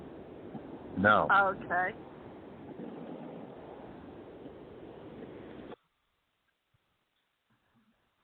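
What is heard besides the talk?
ocean waves heard over a Skype call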